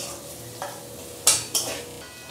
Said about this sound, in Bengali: ওভেনের ফ্লেমটাকে একটু কমিয়ে আমি আবার আলুটাকে কষতে থাকব